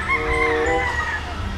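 A rooster crows once at a gamefarm, giving a clear, drawn-out call over steady outdoor background noise.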